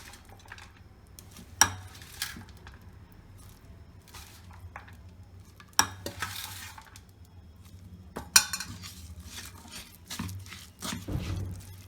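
Ground spices being stirred into oil for a turmeric pickle, with soft clinks of a spoon against a metal pot at intervals and quiet squishy mixing in between, close and fairly faint, with no talking.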